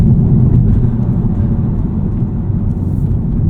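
A Honda Civic Type R FL5 with a COBB Accessport tune pulls under acceleration, a loud, steady low engine rumble with road noise heard from inside the car, without talk.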